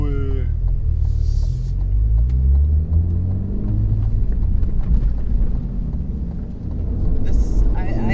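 Cadillac CT4-V Blackwing accelerating hard from a green light, heard from the cabin as a loud, deep engine rumble that climbs through the revs with brief shift breaks, steady and powerful throughout.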